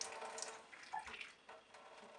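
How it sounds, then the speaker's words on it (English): Water running from a tap to fill a container for mixing a thick liquid, a faint, steady splashing stream with small bubbling variations throughout, no voices. "I fill it with water just barely higher than where it goes"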